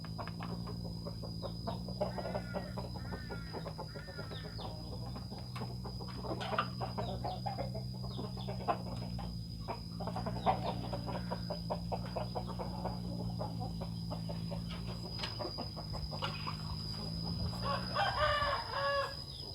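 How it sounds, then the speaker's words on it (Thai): Chickens cluck busily in a small backyard home coop while a rooster crows near the end, with steady low background hum and no voices present. "นี่แหละครับบรรยากาศของซุ้มไก่บ้านๆนะครับ"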